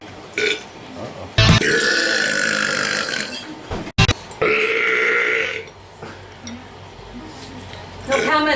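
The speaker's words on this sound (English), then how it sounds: "Got burps from the crowd." Several loud, drawn-out burps at a casual meal, with talk and clinking dishes and cutlery between them.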